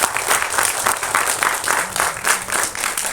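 Audience at a film launch pooja ceremony at a studio in Saligramam applauds the producers, a steady, fairly loud wash of many hands clapping with rhythmic swells, no voices over it.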